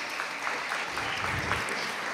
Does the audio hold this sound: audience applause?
yes